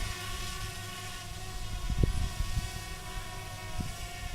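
A DJI Spark drone in flight gives off a steady high-pitched motor whine that holds for the whole stretch, with some low wind and handling rumble underneath.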